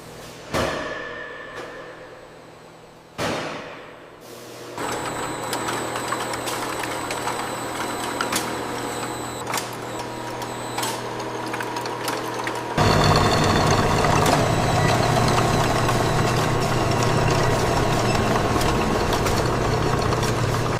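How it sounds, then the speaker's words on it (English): Machinery grinds a white bull horn, beginning with a few short starts, then a steady loud mechanical drone that grows harsher and louder partway through, continuous and close with no talk. "We are ready for grinding."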